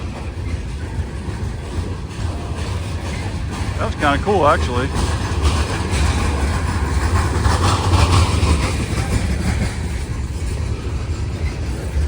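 A Norfolk Southern train passes a busy railroad crossing at night, a steady low rumble of rolling cars filling the scene, with a person talking over it.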